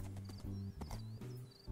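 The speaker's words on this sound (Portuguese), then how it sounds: "Ó, cavalo. Cavalo do Minecraft." A horse in Minecraft makes repeated low, tonal snorting and whinnying sounds in a regular stepping rhythm, heard fairly close and alone without speech.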